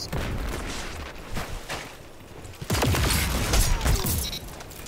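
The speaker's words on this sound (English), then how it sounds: "Can you guys stop with the grenade launches?" Grenade launcher fire in the video game Dead Messenger: a burst of sharp booming shots and clattering impacts, with a louder, denser volley in the second half.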